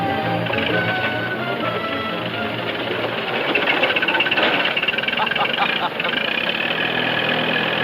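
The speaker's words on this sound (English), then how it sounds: "I'll run you off with this tractor" A tractor engine runs steadily and loudly on a farm property in a 1949 film scene, a continuous rattling drone with voices talking over it.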